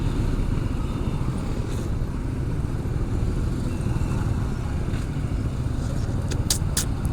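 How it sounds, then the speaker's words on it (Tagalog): Road traffic of motorcycles and cars in Masbate City: a constant low engine rumble, with small bikes passing and brief sharper bursts near the end. "traffic na naman"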